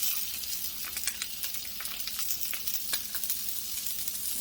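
Salmon frying in a pan: a steady, quiet hiss of sizzling fat with small popping crackles scattered throughout, close up and alone with no talking.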